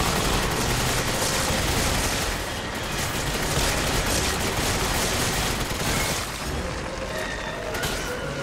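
Gunfire in the video game Resident Evil 5, a dense, loud and continuous barrage of shots and booms filling the whole stretch.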